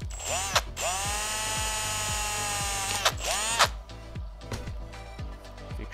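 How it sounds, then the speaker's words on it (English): A power drill bores through a piece of tin sheet, its motor whining up and down in two close, loud bursts, with sharp metallic ratcheting clicks in between. "You can drill it."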